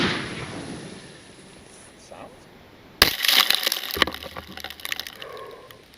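A 37mm launcher fires during a torture test: a low ambient hiss breaks into one sudden sharp blast, followed by a rattling, crackling tail that fades slowly.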